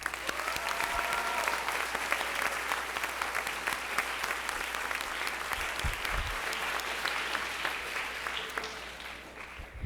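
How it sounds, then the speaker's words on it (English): Audience applause fills a school auditorium at a high school spring orchestra concert, a dense, steady wash of many hands clapping that holds at an even level for the full stretch. "Please give them a big applause"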